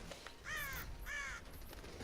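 A crow in a video game gives two harsh, rasping caws about half a second apart, moderately loud over a steady hiss of background noise.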